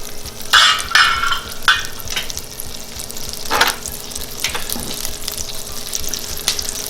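Olive oil and butter sizzle in a frying pan, a soft steady crackle with several brighter bursts of spitting, close and fairly quiet, no voices.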